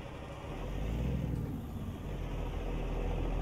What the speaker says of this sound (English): we'll get a downshift as we're pulling in here